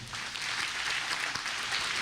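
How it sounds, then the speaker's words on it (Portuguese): Steady, loud applause from a church congregation at the close of a Portuguese-language sermon, dense hand-clapping sustained evenly throughout with no talk over it. "Aplauda bem forte"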